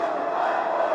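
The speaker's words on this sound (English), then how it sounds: "The Christchurch crowd chanting "Fight Forever,"" Wrestling crowd in Christchurch chanting in unison, a loud, dense wall of massed voices filling the arena without pause, heard during a hardcore match involving Mick Foley.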